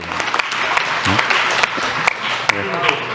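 Audience applause at a Korean government briefing on research and development reform, a mix of scattered claps and a steady patter heard under a speaking voice.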